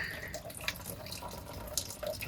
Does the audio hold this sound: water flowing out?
yes